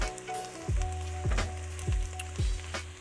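Ground turkey for chili sizzles and fries in a pan, a soft, steady crackle interrupted by a few regular low thumps.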